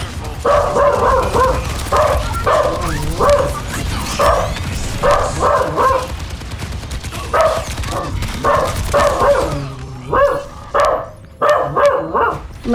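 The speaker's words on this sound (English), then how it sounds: "That was a dog." A dog barks loudly and close by in quick repeated bursts, with short pauses between volleys and a few higher yips toward the end.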